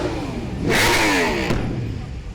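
Motorbike engine revving on a promenade during the Isle of Man TT 2023, a loud surge of revs rising and falling for about a second, then settling to a lower steady drone.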